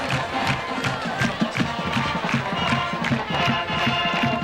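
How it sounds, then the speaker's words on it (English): Parents' Day crowd at Redmond Stadium roaring and cheering after a long punt return touchdown in a Bloomsburg versus Mansfield college football game, a loud, dense, sustained wall of voices with scattered shouts and clapping. "The Parents' Day crowd at Redmond Stadium has just been electrified with another long punt return touchdown by Sean Smith, his 3rd of the season."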